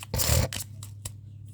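A deck of tarot cards shuffled by hand, a quick riffle burst followed by a couple of light taps and slides of the cards, close and fairly loud, without speech.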